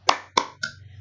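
Three sharp hand claps in a steady rhythm, close and loud, each with a brief decay, from a group clapping routine at an Indonesian school.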